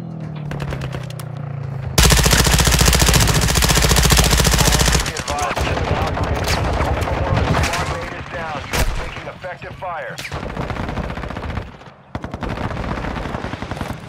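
Video game gunfire: a dense, loud burst of rapid machine-gun fire lasting a few seconds, followed by scattered shots and bursts, with game voices speaking in between.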